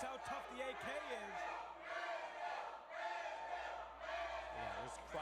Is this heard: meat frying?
no